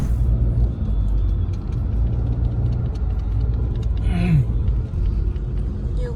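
Ford Mustang driving past in San Francisco near the Palace of Fine Arts: a steady low engine rumble with traffic noise throughout, fairly close, with a brief higher hiss and scattered background sounds.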